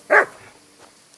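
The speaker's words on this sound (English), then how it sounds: "Here, Mutt." A single short dog bark in the medieval game Kingdom Come: Deliverance II, one loud close yelp near the start followed by near silence.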